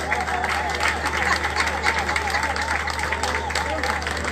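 Audience applause fills a French birthday celebration show, steady dense clapping throughout at fairly close range, with crowd noise underneath.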